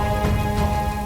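Steady rain falling outdoors, a dense continuous hiss of drops spattering on surfaces, close and fairly loud with no voices.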